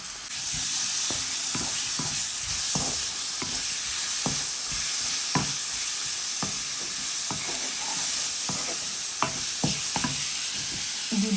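Onion, garlic paste, tomato and spices sizzle steadily in a hot pan, a continuous loud hiss broken by scattered scraping stirs and small pops, with no talking.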